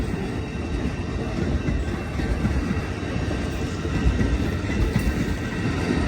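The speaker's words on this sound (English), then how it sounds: "This train is going southbound to Los Angeles." An Amtrak Coast Starlight passenger train led by an ALC-42 locomotive rolls past a station heading south toward Los Angeles, a loud, close, steady rumble of wheels on rail with faint rhythmic clacking throughout.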